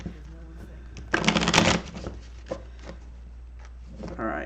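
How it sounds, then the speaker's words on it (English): A deck of tarot cards being shuffled by hand, with a loud riffling burst in the middle framed by softer rubs and taps, close to the listener. "I'm shuffling for Candace here"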